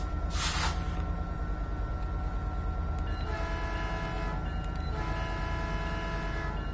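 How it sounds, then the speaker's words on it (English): Locomotive horn blasting in the Train Sim World 5 railway simulator near San Bernardino, a loud sustained honk over steady train rumble, with a second fainter horn sound later; no talking. "I like to honk the horn and be noisy."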